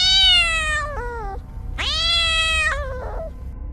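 A cartoon magic cat princess gives two long, loud, drawn-out meows close up, with a short pause between them and no talking.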